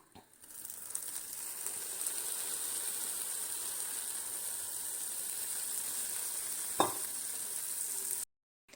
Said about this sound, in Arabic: انا كده دلقت الشربات كله عليها